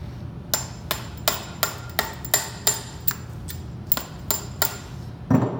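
Hammer taps a metal hose fitting onto the end of a hose during crimping prep, about a dozen sharp, evenly spaced metallic strikes up close with no talk, ending on a heavier thud.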